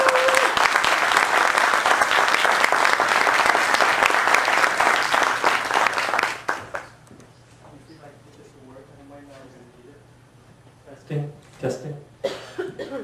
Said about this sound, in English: everyone please give a round of applause and a hearty welcome to Thanh Tran